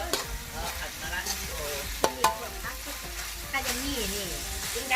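Bitter gourd stir-fried with soy sauce sizzles and crackles steadily in a pan, with a few sharp scrapes of a utensil stirring, under a voice talking.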